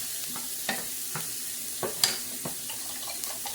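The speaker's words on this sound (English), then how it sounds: "And I'm going to put my eggs in. Get them going." Eggs and ham scrambled in a frying pan: a steady sizzle broken by repeated spatula scrapes and taps, close and clear, with no talk.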